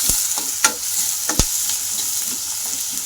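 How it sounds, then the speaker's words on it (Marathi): Onion hits hot oil with frying cumin for potato chutney, producing a loud, steady sizzle broken by a few sharp stirring clicks. "आता जिरं टाकलं, जिरं चांगलं फ्राय झालं, कांदा टाकून घ्यायचा."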